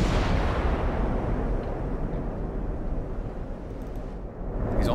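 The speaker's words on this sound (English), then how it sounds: "Are all my guns firing?" Warship guns firing in the naval battle game Ultimate Admiral: Dreadnoughts, a loud, continuous deep rumble of heavy gunfire and blasts that holds steady before easing slightly at the end.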